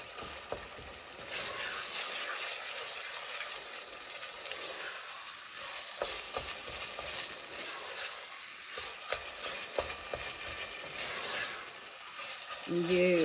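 Chicken keema frying in a pan for achari aloo keema, a steady close sizzle broken by repeated scraping stirs of the spoon, with no talking over it.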